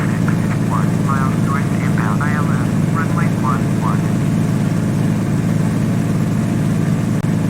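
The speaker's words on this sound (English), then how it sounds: "listen to the engine." A small airplane engine drones steadily and loudly in flight, a constant low hum that fills the whole clip, with faint rising whistles early on and a voice briefly under the noise.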